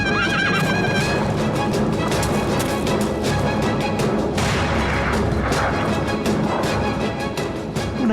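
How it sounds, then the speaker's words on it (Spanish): Horses neigh and whinny amid a dense, loud battle din of hooves clattering and booming gunfire or artillery in a guerrilla war scene. "¡Traigan todos los caballos!"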